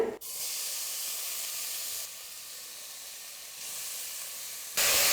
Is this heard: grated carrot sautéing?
yes